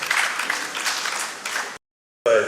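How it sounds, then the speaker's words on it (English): A conference audience at an armed forces event gives a round of applause, dense and fairly loud clapping that cuts off abruptly into silence before a short burst of voice. "Let's welcome him with a round of applause."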